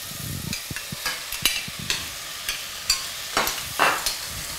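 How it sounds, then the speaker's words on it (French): A spoon stirs potatoes and celery with softened onions in a pot of soup, making irregular scraping knocks against the pot over a faint, steady sizzle close by. "On mélange bien le tout"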